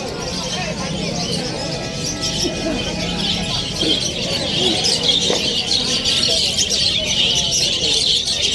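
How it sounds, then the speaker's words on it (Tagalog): Many caged birds at the Malabon pet market chirping, tweeting and cooing together in a dense, continuous chorus under general crowd bustle and someone talking. "Napakaraming ibon o"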